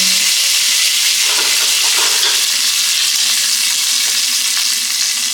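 Curry leaves hit hot oil with popping mustard seeds for avalakki oggarane, giving a loud, steady sizzle and hiss with crackling bursts, close up and without talk.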